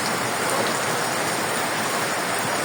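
Heavy rain pours down in a dense, unbroken hiss, drumming evenly on surfaces close by.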